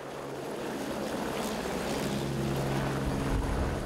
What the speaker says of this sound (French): Sur ce chantier, tout s'achemine par hélicoptère.